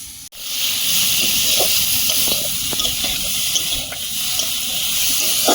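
Vegetables for an ol chingri dish with yam, green banana, potato and fish sizzle and hiss steadily as they are sautéed with spices in a pan, close and continuous, with occasional spoon scrapes and stirring knocks.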